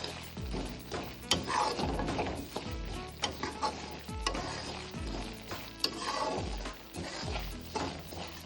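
Rava pongal mixture with boiled moong dal fries in a pan, a continuous loud sizzle broken by repeated clanking and scraping strokes of a spoon stirring against the metal, irregular and close.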